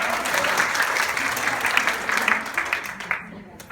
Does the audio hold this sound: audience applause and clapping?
yes